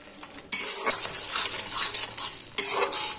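Spice paste with asafoetida being stir-fried in a pan for spinach dhoka, with steady scraping and stirring over a loud sizzle that drops briefly, then returns with clinks of the utensil against the pan.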